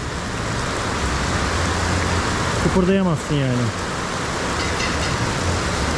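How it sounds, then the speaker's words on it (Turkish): Heavy rain pouring down in Sri Lanka, a loud continuous hiss throughout, with a voice speaking briefly in the middle over it. "Buranın yağmuru da öyle bir yağmur ki"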